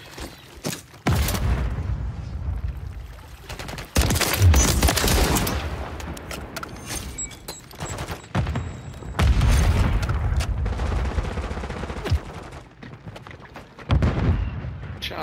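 Gunfire and explosions in the Modern Warfare III video game, with loud bursts of shots and heavy booms in irregular clusters separated by short quieter gaps.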